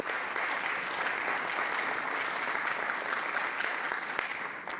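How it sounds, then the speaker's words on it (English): Council members and attendees at an Ottawa city council meeting give city staff a sustained round of applause, an even, unbroken wash of clapping that carries on alone and eases slightly at the end. "I think we should all give them a round of applause for their extraordinary work"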